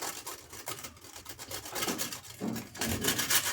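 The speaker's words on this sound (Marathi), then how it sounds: "असं गाजर पूर्ण किसून घ्यायचं आहे." Carrots grated by hand for carrot halwa make a close, rhythmic rasping scrape, stroke after stroke at an uneven pace, fairly quiet and with no talking.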